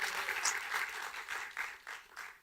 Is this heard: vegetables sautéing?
no